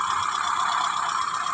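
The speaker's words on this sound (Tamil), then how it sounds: "இன்ஜின் நாய்ஸ் பாருங்கள் எப்படி இருக்குது" A 2007 Hyundai Santro Xing petrol car idles with its bonnet open, a steady even engine hum with a faint whirring belt noise, close and continuous.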